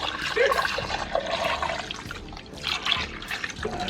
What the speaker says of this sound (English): And we top it with water.